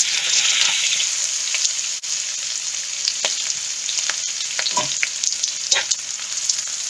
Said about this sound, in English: Now I'm going to fry the anchovy.